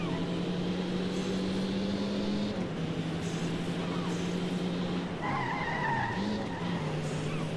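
Tires squeal continuously as a car drifts and skids in the racing video game World Racing 2, with engine drone underneath and the pitch of the squeal shifting as the slide changes.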